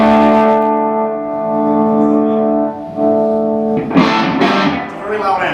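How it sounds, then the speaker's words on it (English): A Vox amplifier with reverb on, in a room at the Musikmesse 2010 trade fair, plays a loud, aggressive distorted guitar, with sustained overdriven chords ringing for several seconds before sharper, noisier strums take over. "very aggressive, very mean sounding amplifier"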